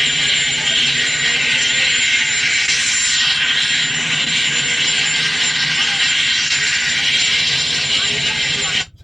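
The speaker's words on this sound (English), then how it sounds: "the closer it gets to that helicopter, the louder the noise comes from the background" Steady broadband rotor and engine roar of a helicopter, loud and continuous throughout, with a faint mechanical whine on top, cutting off abruptly at the end.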